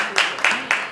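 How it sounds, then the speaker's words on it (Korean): Three sharp, rhythmic bursts of group clapping ring out at a small-business SNS marketing association founding ceremony, close and evenly spaced, following a prize-draw announcement. "박수!"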